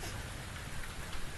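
Steady, dense rain pours down in The Invisible Hours, a loud, even hiss with no pauses and no voices over it.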